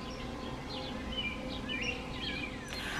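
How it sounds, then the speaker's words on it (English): Birds chirp and sing outdoors on a beach day, several light calls repeating over a steady broadband wash of wind or surf. "Listen to the birds real quick, y'all."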